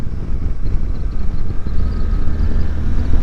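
A deep, throaty Suzuki V-Strom 800 DE twin-cylinder motorcycle engine rumbles steadily while riding on a Spanish road, loud and close with wind noise and no voices.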